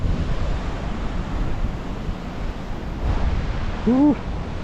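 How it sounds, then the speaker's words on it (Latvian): Rough ocean waves surge continuously on the coast of Madeira, a broad wash of surf and wind noise that swells near the end, where a brief voice briefly cuts in. "viļņojošs okeāns un te atkal pilnīgais rāmums"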